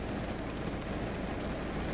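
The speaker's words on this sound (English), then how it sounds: "It's raining non-stop and I'm waiting." Steady pouring rain hisses in a dense, even wash at a moderate level on an evening outdoors, with no voices and no distinct drops or thunder standing out.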